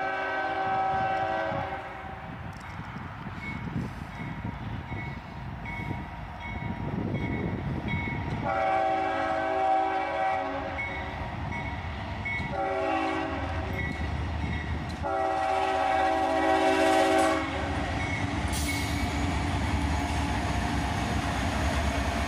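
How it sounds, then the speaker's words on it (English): A freight train with an SD40-2 locomotive rolls past close by, a steady rumble of cars with horn blasts sounding intermittently, loud throughout. "the end of the train goes by"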